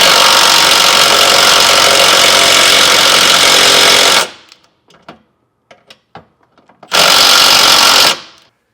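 An impact wrench drives the bolts of a leaf spring suspension bracket tight on a trailer frame rail, with a long loud rattling burst, a pause filled with metallic clicks and handling, then a second shorter burst.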